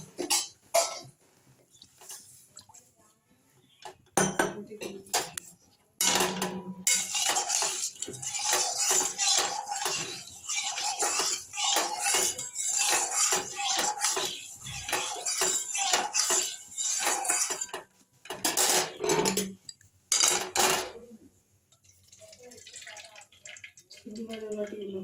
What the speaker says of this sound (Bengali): ঢেলে নিয়ে কড়াটাকে একটু ধুয়ে নেব।